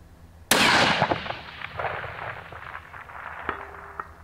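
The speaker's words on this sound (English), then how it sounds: "now let's go do some long range shooting" A single loud rifle shot cracks at a long range shooting session and rolls away in a long echoing boom over open ground, followed by a few faint clicks.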